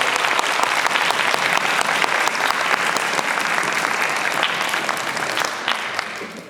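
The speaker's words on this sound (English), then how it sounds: "A round of applause for you 2023 finalists" An audience at a speech contest applauds the finalists with sustained, full clapping that stays strong and even before tapering off slightly toward the end, with faint crowd murmur underneath.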